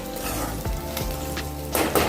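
Green chillies and curry leaves frying in hot oil for a Telangana-style flattened rice tempering, a steady close sizzle with a few stirring clinks and a sharper crackle near the end.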